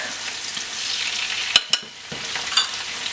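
Onions and minced garlic hit hot vegetable oil in a pan, producing a close, steady sizzle broken by a few sharp utensil clacks against the pan.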